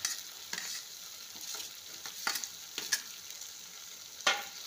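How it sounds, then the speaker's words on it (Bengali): Capsicum is stirred into a spice masala sizzling in oil for veg paneer masala, a steady close fry hiss broken by repeated scraping stirs, with no talk. "মশলাটা কষানো হয়ে গেছে, তেল ছেড়ে দিয়েছে। এবার আমি এর মধ্যে ক্যাপসিকামগুলো দিয়ে দেবো।"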